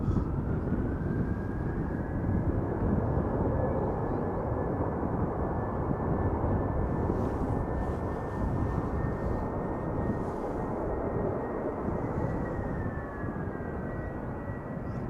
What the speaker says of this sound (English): it is Vueling. This time, flight 8368 going to OVD or Asturias. An A320.